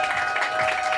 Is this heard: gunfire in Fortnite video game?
no